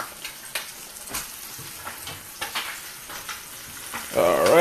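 Tea-infused rice sizzles and crackles in a hot pan with scattered stirring scrapes and taps, the frying swelling louder near the end, close up with no talking.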